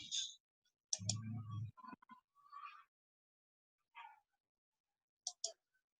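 Sparse, faint computer mouse clicks on a web page come in a few isolated bursts over near-silence, with some soft voice-like sounds between them.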